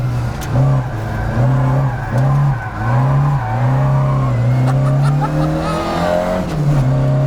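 A Ford Escort RS2000 rally car is driven hard on a twisty road, its engine note rising and dropping with shifts and throttle lifts, loud and close with no talk over it.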